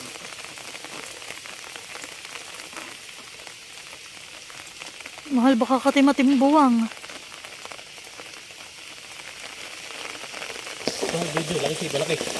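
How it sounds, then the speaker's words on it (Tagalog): Steady heavy rain patters down throughout by a river, with voices briefly talking over it partway through and again near the end. "Yo, lakas po ng ulan."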